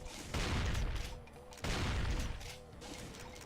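Rapid bursts of gunfire in a Doom map, two loud clusters of shots with a short gap between them, no voice over them.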